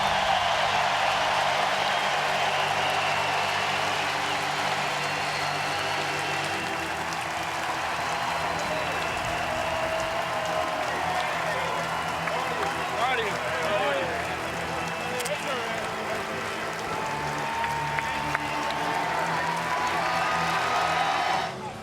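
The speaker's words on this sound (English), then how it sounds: "Listen to the applause." At the LSU vs Coastal Carolina Men's College World Series finals in Omaha, a stadium crowd gives pitcher Anthony Ianson a sustained ovation as he walks off the mound. The broad roar of applause and cheering runs steadily throughout, under an announcer's voice.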